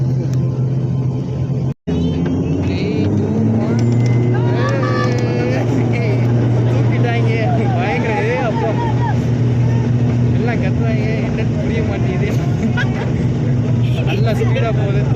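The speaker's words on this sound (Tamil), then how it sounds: "வண்டி டேக் ஆஃப் ஆக போகுது கைஸ்" An airliner taxiing on the runway and speeding up for takeoff, a loud steady engine roar and rumble with rising tones, heard from inside the cabin under continuous talk and chatter nearby.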